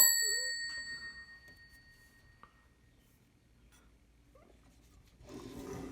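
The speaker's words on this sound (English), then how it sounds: "the bell, which has a really nice sound to it" A bell on a Fox upstrike typewriter gives one clear, bright ding. The tone rings on and slowly fades over a few seconds, with faint mechanical clicks in a quiet room.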